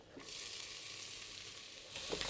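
Chopped shallots frying in a pot give a steady, close sizzle throughout, with a slight rise and crackle near the end.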